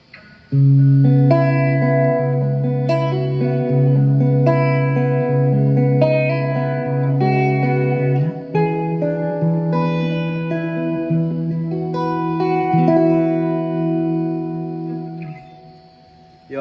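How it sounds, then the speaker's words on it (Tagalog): An electric guitar played through the reverb effect of a Boss ME-20 multi-effects pedal in a church rig, with loud, lingering chords and picked notes that trail into a long wash of reverberation, and no talking. "That's my reverb right there."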